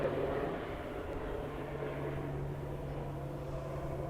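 An airplane departing the airport, its engine rumble steady and moderately loud with a low droning hum and no voices.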